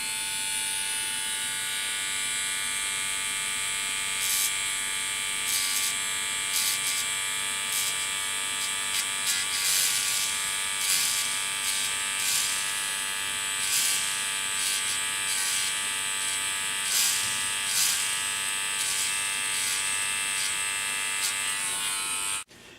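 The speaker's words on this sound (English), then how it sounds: "Take my little Dremel, put it on low." A small Dremel rotary tool spins on a low setting to clean the contact shoes of an HO slot car, giving a steady, close, high-pitched whine with faint flickers as it lightly touches the metal, with no talking.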